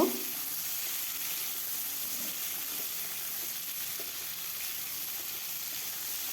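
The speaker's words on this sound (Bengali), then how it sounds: "আলুটা ভাজা হলে তারপর দিয়ে দেব কেটে রাখা কাঁঠালের বীজ কাঁঠালের বীজটা দিয়েও ভালোভাবে ভেজে নেব" Potatoes and jackfruit seeds frying in oil in a pan, a steady close hiss of sizzling throughout with a faint stir or clink near the start and no voices.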